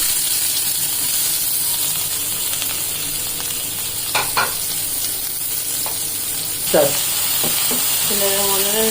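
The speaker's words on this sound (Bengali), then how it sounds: "প্রথমে পেঁয়াজগুলো ভেজে নিচ্ছি" Onions frying in mustard oil in a pan for an egg and tomato bhuna, a continuous loud sizzle with occasional stirring scrapes and clinks, and a brief voice-like sound near the end.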